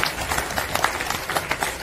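Congregation clapping in a church service, a dense run of hand claps at moderate distance with bright, irregular peaks throughout.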